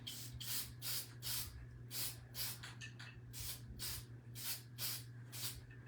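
Mod Podge sprays from an aerosol can in a series of short, regular hissing bursts, about a dozen in a row, quiet and close over a low background hum.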